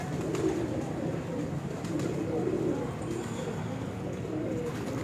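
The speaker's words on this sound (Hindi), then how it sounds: "कौन सा कबूतर है ये? चीना कबूतर है जी भाई" A dub-type Chinese breeder pigeon coos on a rooftop, with soft low cooing heard faintly through a steady background hum.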